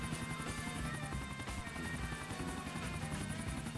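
A helicopter in the video game GTA IV, a steady loud rotor thumping and engine whine continuing throughout without pause.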